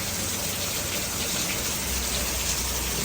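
Steady rain falls outdoors on a rainy day in Canada, a dense continuous hiss of drops on surfaces, even and unbroken throughout, with no voices.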